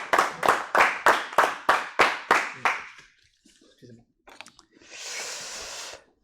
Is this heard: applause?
yes